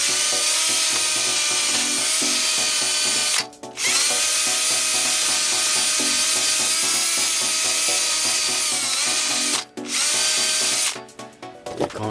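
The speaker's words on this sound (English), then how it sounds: "what I'm gonna do now is with the drill, I'm gonna clean up around the arm" A power drill with a wire brush scours around the hub of a Range Rover Evoque during a brake disc and pad change, a loud continuous whirring grind with two short pauses and a stuttering stop near the end.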